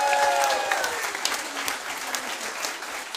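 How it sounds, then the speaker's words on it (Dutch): Audience applause after a primary school group 8 end-of-year musical, a dense, steady clapping that carries on throughout with a few cheers over it. "Applaus!"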